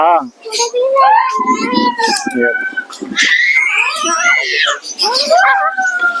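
Several children shout and squeal excitedly, high-pitched voices overlapping and calling out nearby, with chatter between the yells.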